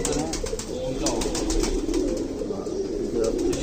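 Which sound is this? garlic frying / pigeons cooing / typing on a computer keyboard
pigeons cooing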